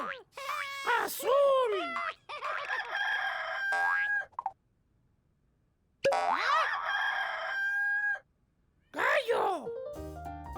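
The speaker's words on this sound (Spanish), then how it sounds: "¡Gallo!" A cartoonish rooster crows in short bursts between bouncy boing-like effects and silent gaps, part of an animal-sound sequence for children.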